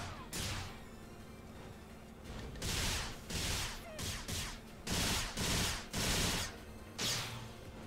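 Shotgun blasts in the action game Phantasy Star Online 2 New Genesis during a boss fight against Daityl Sword, a series of loud booming bursts roughly every half second over dense combat noise.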